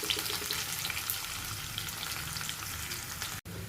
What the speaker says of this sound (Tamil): இந்த மாதிரி வெங்காயம் நல்லா வணக்கணுங்க